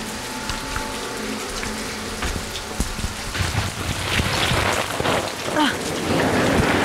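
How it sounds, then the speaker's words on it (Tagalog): Heavy tropical rain falling steadily, a dense hiss with scattered drips and low rumbles, close and continuous, growing a little stronger toward the end. "Ay, hindi natitila yung ulan at may darating daw ng bagyo."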